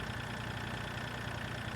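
A small four-cylinder tractor engine in the Farming Simulator 2013 video game idles with a steady, low, throbbing drone that stays fairly quiet and unchanging throughout.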